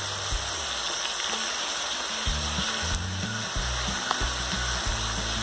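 Capsicum and tomato stirred in a hot pan while cooking vermicelli upma, giving a steady sizzle with low, uneven scraping and stirring scrapes throughout, close and moderately loud with no talking.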